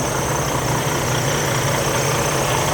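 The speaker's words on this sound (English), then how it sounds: "Yeah, now it's starting. We're gonna have to let it idle." A Western Express semi truck's engine idles steadily right after starting, a loud, continuous low rumble with a constant hum and a faint high whine, close to the microphone with no talking.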